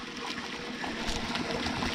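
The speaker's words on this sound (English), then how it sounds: "And that's the sound of flowing water." Water flowing at Blue Point Spring in the desert near Valley of Fire, a continuous close trickling and gurgling stream with no voices.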